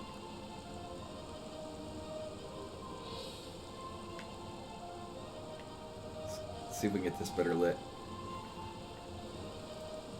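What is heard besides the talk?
rain falling in the video game Metroid Prime Remastered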